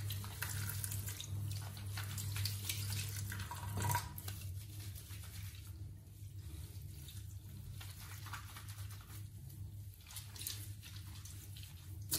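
Tap water runs steadily for hair washing in a sink, a faint continuous hiss and patter with a low hum underneath, lasting the whole stretch without any talking.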